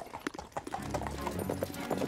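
A cartoon horse's hooves clip-clop in a steady, moderately close rhythm, with light background music and sound effects running underneath.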